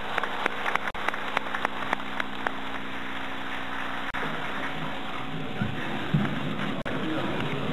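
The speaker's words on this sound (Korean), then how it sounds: "박수로 맞이해 주시기 바랍니다" Audience applause greets a Central Election Commission official at a Democratic Liberal Party presidential candidate's campaign rally, steady broadband clapping filling the room for several seconds with a few sharper claps.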